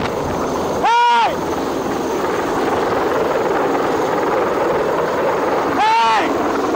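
Low-flying Chinese Navy helicopter roars as a loud, steady rotor-and-engine wash throughout, with two brief louder bursts where voices shout over it.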